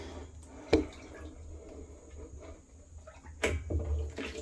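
Water dripping down, with a couple of distinct drops standing out over a low, steady background hum, close by and fairly quiet.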